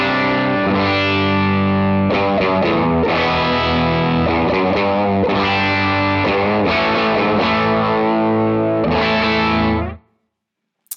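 A loud, saturated electric guitar through an RC Booster pedal and a Fractal FM9 rings out with overdriven, sustained chords and short note changes, then cuts off abruptly near the end.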